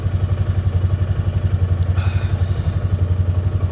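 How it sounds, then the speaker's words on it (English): A carbureted ATV engine runs with a steady, rapid, low chugging pulse, close and even throughout, with a brief clatter partway through and no voices. "My carbureted ATV starts right up."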